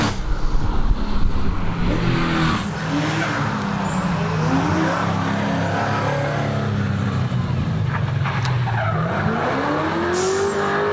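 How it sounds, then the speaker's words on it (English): A car at the Legend of the Lakes hillclimb skids its tires in a handbrake turn, a long, loud squeal that rises and falls over the engine's roar while a commentator talks over it. "there's a nice little handbrake and smoke up"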